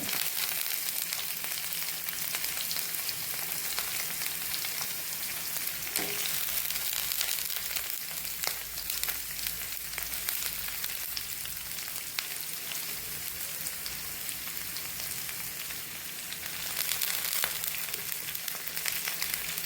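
Oil frying in a pan with chilli and salt, a continuous dense sizzle and crackle that holds steady from start to end, with an occasional faint stir.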